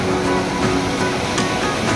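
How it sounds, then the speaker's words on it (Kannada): Ocean waves break and wash continuously at Malpe beach, a steady close roar of surf with no voices. "ಅಲೆಗಳು ನೋಡಿ ಯಾವ ರೀತಿ ಹೇಗಿದೆ."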